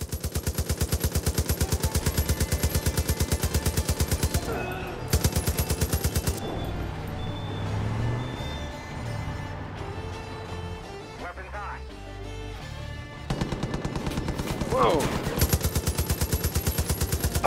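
A chain gun fires in Far Cry 5, a loud rapid stream of shots with two short breaks and a quieter stretch of other game noise in between.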